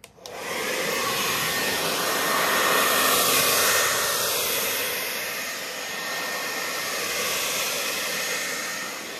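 A hair dryer blows steadily across wet acrylic paint in a Dutch pour, a loud, continuous broadband whoosh that starts abruptly and swells and dips slightly as the airflow shifts, with no talking.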